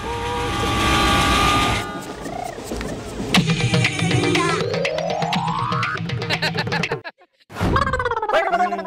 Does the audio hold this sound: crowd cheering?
no